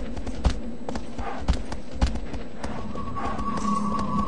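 Hoofbeats of a horse in the video game Shadow of the Colossus thud a few times over a steady electronic hum and ambient background, close and moderately loud.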